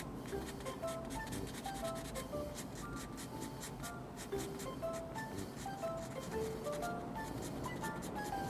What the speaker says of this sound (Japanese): 軽く当てて削る。